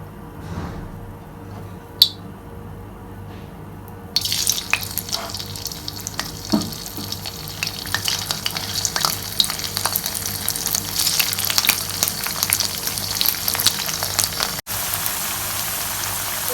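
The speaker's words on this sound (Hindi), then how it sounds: "अब हम अपने पोटैटो जो है इसमें फ्राई करते हैं क्रिस्पी करने के लिए।" Potato pieces drop into hot oil in a kadai and begin deep frying. After a quiet start with a single click, a loud, dense crackling sizzle sets in and continues steadily.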